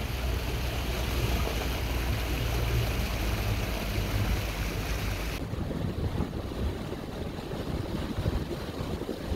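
A boat travels up the St. Clair River from its mouth, with a steady engine and water rush mixed with gusty wind buffeting the microphone throughout.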